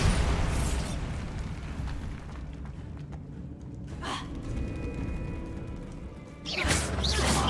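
A Bombarda blasting spell in Hogwarts Legacy booms out in heavy bursts, one at the start, a sharp crack near the middle and another surge near the end, with rumbling debris between.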